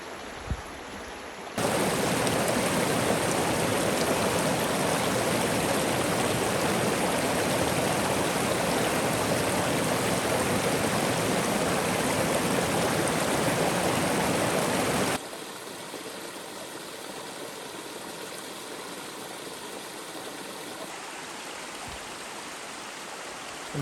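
A mountain creek in the Great Smoky Mountains rushes in a loud, steady, close-up wash of water that continues unbroken, then drops to a softer flow partway through.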